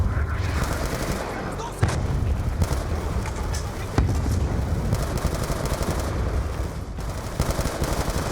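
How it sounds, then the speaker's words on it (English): Cartel gunfire in the video game Black Ops 2: dense, continuous shooting with occasional louder cracks over a busy battle din, under brief talk. "and they're shooting at you"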